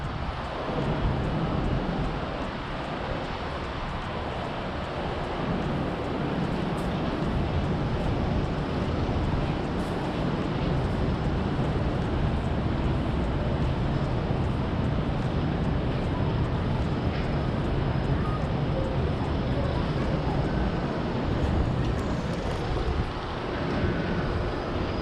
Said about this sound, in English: There's just so many noises of engines and construction.